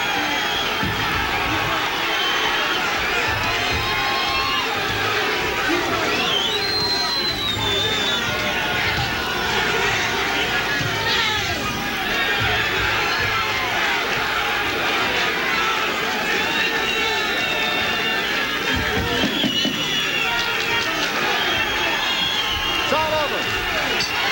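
Boxing arena crowd roaring and cheering continuously through the closing moments of the Zack Padilla vs Ray Oliveira fight, loud and dense with scattered shouts and whistles and steady crowd chatter.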